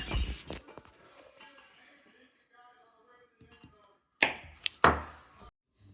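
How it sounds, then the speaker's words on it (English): A knife taps and chops against a cutting board in a few sharp, close strikes after some quieter handling noises, cutting butter into pieces under an inch. "you're going to cut the butter into like less than 1-inch pieces"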